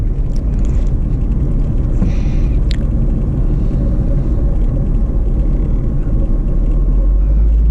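A K20 engine in an Acura RSX Base drives under load, giving a loud, steady, close engine rumble with road noise throughout.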